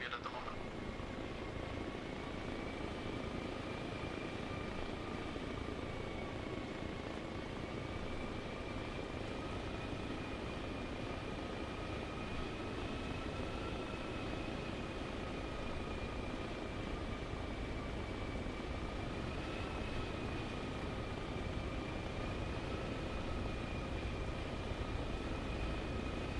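Helicopter rotor and turbine drone from the Arma Reforger video game, a steady continuous whine with sustained tonal hum throughout, fairly faint, with voices talking over it.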